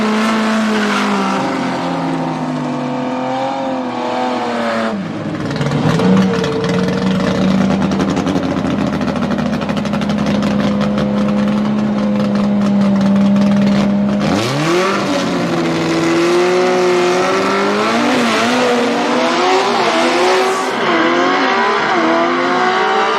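Gasser drag race cars at Knoxville Dragway rev and roar loudly, their engines climbing and falling in pitch as they pass close by, with one sustained high-revving run in the middle.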